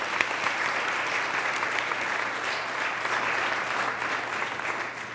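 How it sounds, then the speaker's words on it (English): An audience at a city address in Cambridge, Massachusetts applauds, producing a dense, sustained wash of clapping from a large crowd that holds steady and fades slightly at the end. "Please join me in another round of applause to recognize their awesome service to our city."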